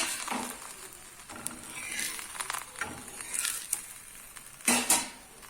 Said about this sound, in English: The tawa is hot. So now we will roast on both sides nicely.